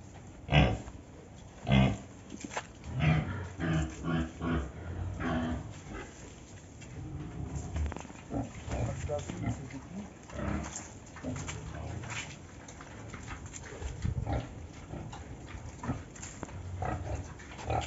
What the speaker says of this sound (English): So follow me, let's watch the pig.